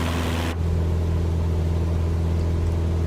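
Cessna 172 piston engine at high climb power, a loud, steady droning hum with strong low harmonics filling the cabin, unbroken after a brief dip at the start.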